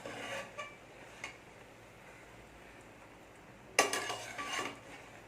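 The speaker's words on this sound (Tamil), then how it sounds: "லைட்டாக கிளறி விடுவோம்" A spoon scraping and clinking against a metal cooking pot while stirring rice for prawn pulao, in a few separate bursts, with a quiet stretch between stirs.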